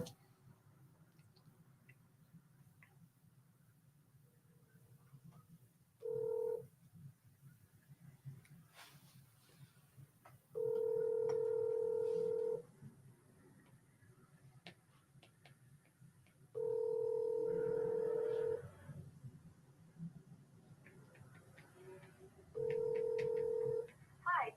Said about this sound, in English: She won't answer the phone.